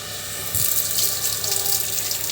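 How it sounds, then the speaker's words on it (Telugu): Tap water fed from a storage tank gushes into a sink, starting abruptly and then running in a loud, steady splashing stream. "వాటర్ అయితే బాగానే వస్తున్నాయండి"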